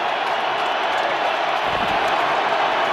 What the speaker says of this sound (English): this crowd will crank it up again